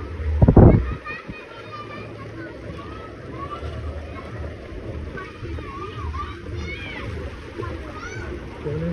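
People splash and wade through deep flood water on a street in Nalasopara during heavy rain, with a loud splash near the start, then steady water churning under background chatter and talk.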